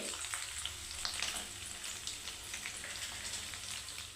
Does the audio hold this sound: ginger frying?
yes